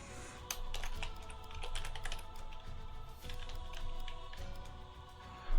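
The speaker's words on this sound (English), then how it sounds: "if you type like an A here, you don't see what is typed" Rapid, irregular clicking of a computer keyboard, close and steady over several seconds, with bursts of keystrokes and short pauses.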